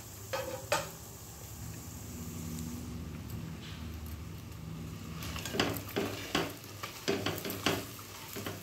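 Chicken curry with tender tamarind leaves fries in a pan with a steady close sizzle, then a spoon stirs and scrapes in quick bursts toward the end, and no one talks.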